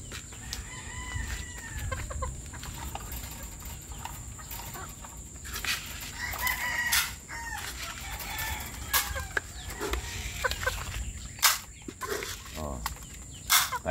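Bulik gamefowl chickens clucking and crowing around a feeding plate at a backyard coop, with repeated close crows and clucks over a steady outdoor background.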